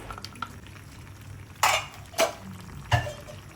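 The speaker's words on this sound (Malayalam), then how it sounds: "ഇതേപ്പോൾ മസാലയിലേക്ക് ചിക്കനൊക്കെ ഇട്ട് അതിലേക്ക് തൈരൊക്കെ ഒഴിച്ച് പൊടികളൊക്കെ മിക്സ് ചെയ്ത് എല്ലാം ഒന്ന് തിളച്ചുകൊണ്ടിരിക്കുന്നുണ്ട്" Chicken masala with yogurt and ground spices simmers in a pot for biryani while a spoon stirs it, giving three sharp scrapes against a low, steady bubbling background.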